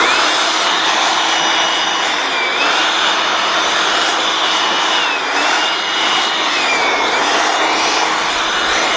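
Blower used while pulling honey from beehives, a loud steady whooshing drone running continuously up close with slight pitch wavers throughout.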